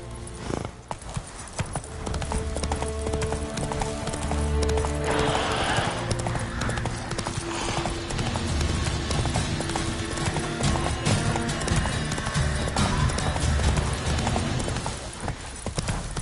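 Roach the horse galloping in The Witcher 3, steady clip-clop of hooves running continuously over the game's ambient music and sound effects, with a brief snort or whinny mixed in.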